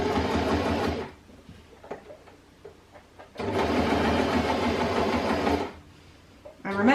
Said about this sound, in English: you are going to go forwards with your sewing machine and then backwards just to secure the stitch